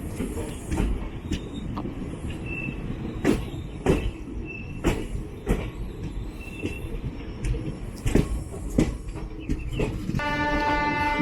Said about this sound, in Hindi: एक रूट जिस पे हमारी ट्रेन जा रही है गोंडा जंक्शन